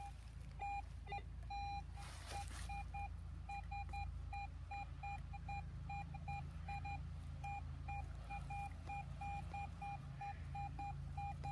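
Metal detector sounding repeated short electronic beeps over a buried silver dime, a steady chirping signal tone pulsing every fraction of a second against a low background hum, fairly close and clear.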